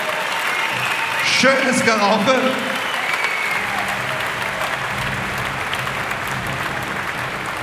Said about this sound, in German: das ist ein großen Applaus wert an beide Kämpfer